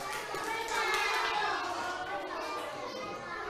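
Young first-grade schoolchildren in a classroom clap their hands together in a dense, continuous patter of many small hands, fairly close, with a murmur of kids' voices mixed in.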